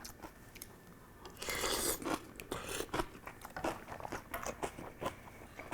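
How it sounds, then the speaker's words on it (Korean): Crunchy kkakdugi radish kimchi eaten with gukbap: loud, close crunching bites and wet chewing, repeated steadily with no talking. "깍두기 하나 먼저 얹어서 먹어보겠습니다."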